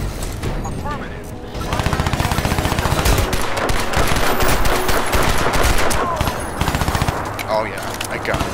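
Crysis 2 combat fills the scene with loud, close automatic fire, rapid steady bursts of shots running almost nonstop beneath shouted game dialogue and voices.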